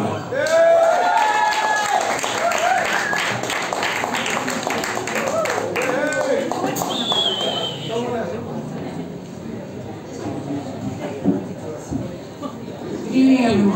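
Audience applause and cheering at a live concert at Red Rhino, honoring a singer-songwriter: dense, loud clapping with crowd noise that fills the room, then slowly thins and fades.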